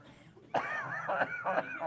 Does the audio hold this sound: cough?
yes